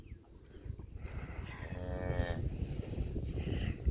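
A calf moos during bottle feeding on a farm, one drawn-out close bellow in the middle over a rustling, shuffling background of people and livestock handling.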